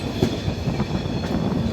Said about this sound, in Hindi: कर्व देखिए कितना बड़ा ले रही है हमारी ट्रेन